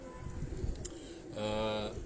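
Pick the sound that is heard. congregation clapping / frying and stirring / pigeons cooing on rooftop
pigeons cooing on rooftop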